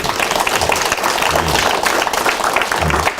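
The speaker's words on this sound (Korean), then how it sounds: "영광의 박수 올려드리겠습니다" A church congregation at an early-morning prayer service gives applause of glory to God, a dense, loud, steady roar of clapping throughout with faint voices mixed in.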